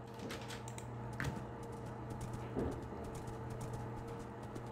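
A horse in the Minecraft Dalek Mod game clops along with quick, light hoofbeat clicks, fairly faint and irregular, over a low steady background hum.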